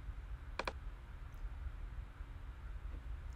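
A single quick double click of a computer mouse, crisp and close, followed by quiet room hiss and a few faint ticks.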